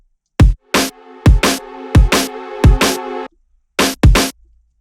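A drum and bass pattern of punchy kick and snare hits in a fast, syncopated double-time rhythm, loud and clean with a sustained tonal note under part of it, no voices.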